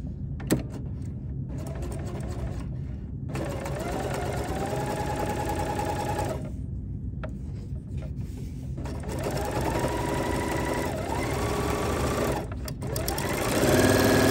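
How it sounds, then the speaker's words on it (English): A sewing machine runs almost without pause while chain-stitching quilt pieces for flying geese blocks, a loud close mechanical hum with rapid needle rhythm that briefly stops and restarts several times. "with chain stitching, I like to sew off"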